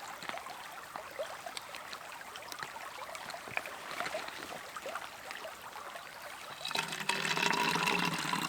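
Cold water from a Katadyn BeFree filter trickling steadily through its open spout, a soft continuous stream outdoors along the Manistee River, growing fuller and louder near the end.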